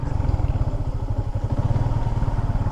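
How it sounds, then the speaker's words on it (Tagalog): A motorcycle ridden on a rough, sandy, enduro-like trail near rice terraces, its engine a loud, close, throbbing pulse with steady rapid beats and some clatter, with no talking. "Parang enduro na yung motor natin."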